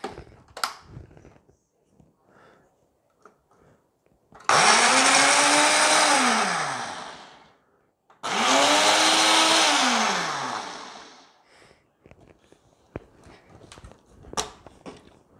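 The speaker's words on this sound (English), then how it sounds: "So I do have my trusty Ninja blender with me." Ninja blender pureeing strawberries in two loud whirring bursts, each spinning up with a rising motor whine and winding down, separated by a short pause, with quiet kitchen clatter before and after.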